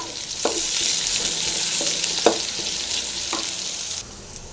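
Chopped onions fry in hot oil with popped mustard seeds for a Tamil cabbage dish, giving a steady bright sizzle with a few sharp spoon scrapes against the pan.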